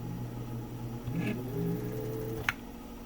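A 1955 Singer 201-2 sewing machine winds a bobbin with a steady, close motor hum and whir, and the pitch rises slightly before a brief click near the end.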